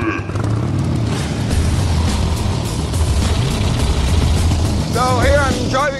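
Motorcycle with a sidecar driving across the Kazakh steppe, its engine droning steadily with a low rumble and wind noise, while a voice speaks over it near the end.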